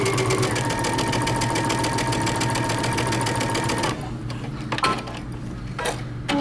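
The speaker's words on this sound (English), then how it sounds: "So I'm gonna stay stitch 3/8 of an inch away from the edge of my neckline." A sewing machine stay stitches the neckline of a shirt dress with a 3.5 length stitch, whirring loudly and steadily for about four seconds before stopping, leaving a few faint clicks and handling noises.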